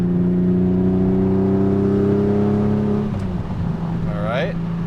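A Porsche 911 sports car engine roars loudly and steadily with a strong droning tone, then drops off and revs again with rising whine.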